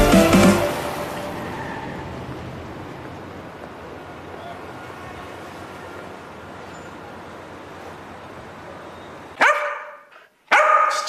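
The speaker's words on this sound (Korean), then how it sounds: "짖지마" A dog barks indoors in close, sharp bursts at the start and again near the end, with a quiet stretch of low room noise in between.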